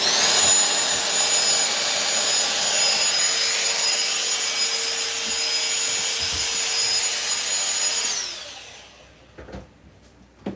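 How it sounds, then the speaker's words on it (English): A household vacuum cleaner runs loud and steady with a high whine as it sucks up a daddy long legs spider, then powers down and stops, followed by faint knocks. "We literally hoover them up and then we hide it outside because I don't want them coming out of the hoover."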